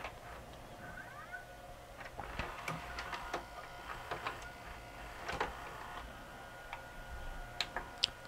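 A Magnavox ZV457MG9A VCR tape mechanism takes up and ejects a tape, with a series of small clicks, ticks and whirring motor bursts scattered irregularly, fairly close and quiet, with no talk.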